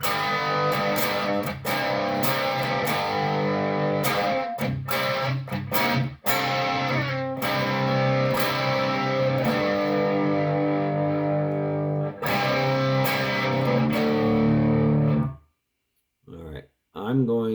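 Electric guitar played through a Lil Rat distortion pedal set to half gain, loud crunchy chords and riffs ringing out with brief pauses, then cutting off near the end into a few quiet notes.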